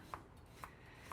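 Vegetables are roughly chopped into big hunks for a pot roast: three crisp knife strikes on a cutting board, evenly spaced and fairly faint, with no voices.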